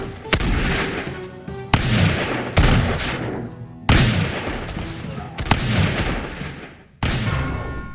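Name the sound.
minigun firing rocks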